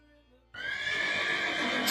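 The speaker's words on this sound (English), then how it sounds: "I'm in a horse, so you just hear neighs." A loud horse neigh sound effect whinnies continuously for well over a second, sudden in onset after a brief quiet, close and alone with no talk.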